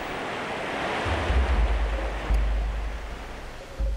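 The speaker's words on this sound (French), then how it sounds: "au centre de notre univers, s'écoule bruyamment la cascade" A waterfall in a valley park in Yaoundé pours steadily, a broad rushing roar with heavy low-end rumble that swells in bursts, alone with no voices.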